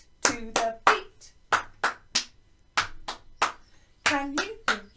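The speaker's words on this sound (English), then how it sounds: "Now let's clap the echoes." Sharp hand claps echo a rhythm in a primary school music lesson for young children, the short bursts falling in an uneven pattern while a voice speaks between and over them.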